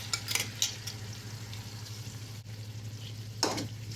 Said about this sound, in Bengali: টমেটোটা, পেঁয়াজ, আদা রসুন এর সাথে একটু ভালো করে ভেজে নেবেন